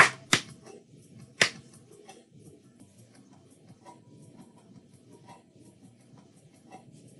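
Two sharp hand claps ring out close and loud near the start, followed by faint, quieter taps over a low steady background.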